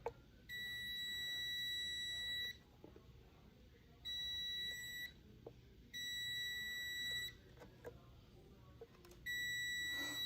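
Repeated continuity beeps from a multimeter probing the wiring of a Fesley Strat-style DIY guitar kit: four steady high tones lasting one to two seconds each, separated by short gaps and light handling clicks, fairly close and clear.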